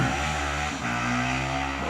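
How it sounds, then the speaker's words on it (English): Motorcycle passing by outdoors on a rainy day, a loud, steady engine drone with a shift in pitch partway through as it goes past, close and continuous throughout, with no talking over it. "Motorcycle."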